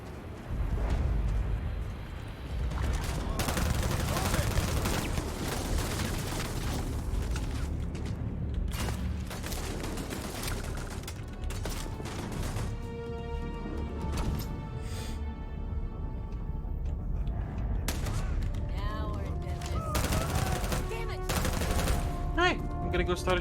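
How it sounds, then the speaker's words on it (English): Sustained bursts of gunfire and rapid automatic fire in the video game Starfield, loud and continuous over a rumbling game soundscape, with mechanical clanks and tonal effects toward the end. "Oh, I hear gunfire."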